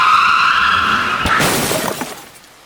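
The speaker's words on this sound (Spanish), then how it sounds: "El coche se desvió, girando violentamente sobre la carretera mojada." A car on a wet road swerves with a sustained tire squeal, then crashes into a tree with a sharp impact and a shattering crunch that fades out.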